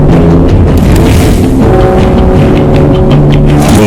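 A deep explosion booms out during wartime sabotage of a heavy water plant, the loud rumble holding steady and dense for several seconds with no speech.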